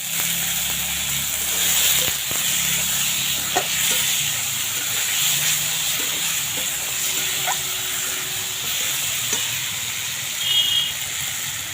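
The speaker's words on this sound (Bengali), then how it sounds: "এবারে দিয়ে দেবো মটরশুঁটি, কাঁচা মটরশুঁটি।" Raw green peas sizzle in a hot pan with garlic, a steady, fairly loud hissing that holds throughout, with a few faint clicks and knocks.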